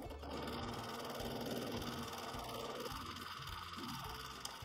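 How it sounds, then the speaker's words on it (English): A sewing machine runs steadily for free-motion quilting of design lines around an appliqué flower, its fast, even needle hum close by and alone. "I'm just going to sew some design lines, just sewing backwards and forwards from our center point here"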